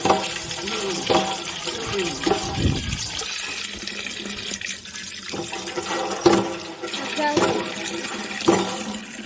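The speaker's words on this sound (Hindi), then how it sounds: "देखिए यही नल है, और यहीं से गांव के लगभग आधे लोग पानी भरकर ले जाते हैं" Water gushes from a village water tap in a steady splashing stream, with irregular surges and slaps as it fills a container, up close, and voices are faintly heard in the background.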